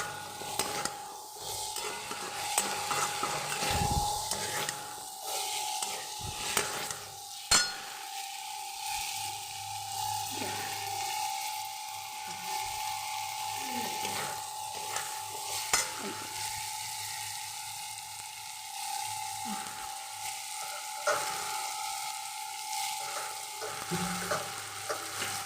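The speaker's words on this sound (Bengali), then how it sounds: "পুরো জিনিসটা খুব ভালো করে কষিয়ে নিতে হবে।" Cut potatoes sauté with ground spices in a pan, a continuous close sizzle broken by intermittent scrapes and knocks of a spatula against the metal over about twenty-five seconds, no speech.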